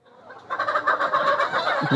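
A crowd of layer hens clucks and squawks together on a poultry farm, a dense, busy flock chatter that grows louder after a quiet start.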